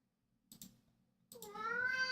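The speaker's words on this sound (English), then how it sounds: "and now my cat gets to meow a bunch" A pet cat named Mikey gives one drawn-out, rising meow, close and fairly loud, after a couple of soft clicks and a brief quiet.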